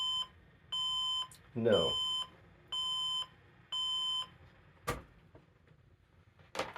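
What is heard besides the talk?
PC motherboard POST error beeps, memory related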